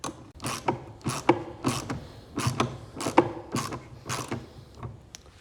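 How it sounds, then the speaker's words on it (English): A ratchet wrench works a 10 mm bolt on a John Deere lawn mower, giving a close run of quick clicking bursts in an uneven rhythm, with no voices. "This is where that ratchet kind of comes in handy."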